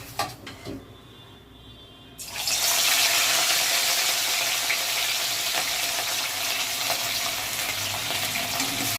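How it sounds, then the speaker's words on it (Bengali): Rui fish frying in hot oil, a quiet clatter giving way after about two seconds to a loud, steady, close sizzle that holds to the end. "তেলটা গরম হয়ে গেছে, মাছগুলো তুলে দেবো"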